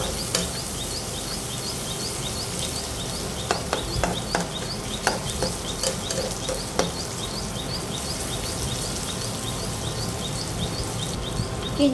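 Chopped onion sizzling and hissing steadily in a hot pan, with faint scraping taps as it is stirred and sautéed, a continuous close frying texture with no talking.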